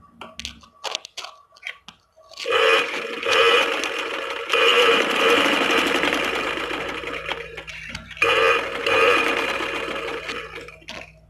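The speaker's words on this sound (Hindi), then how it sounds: "मशीन का पाँव उठाकर, सुई अंदर है कपड़े के, और मैंने यहाँ पे बिल्कुल सीधी सिलाई लगाना स्टार्ट कर देनी है।" A sewing machine runs a straight seam on a kurta, its motor whirring in long, steady stretches after a few short stop-start bursts, close and clear with no talking.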